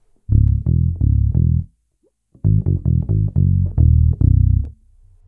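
A five-string bass plays a short melodic run of deep, round plucked notes, four in a first phrase, then a brief pause and a second faster group of notes, close and clean with no talking.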